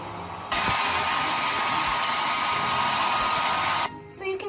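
A hairdryer blowing on fresh paint roars loud and steady for about three seconds, then cuts off abruptly, leaving a few faint clunks and rustles behind.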